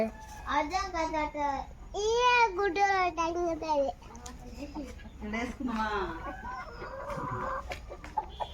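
Small chickens cluck and chirp in short, bright bursts at a moderate distance. People are talking over them now and then.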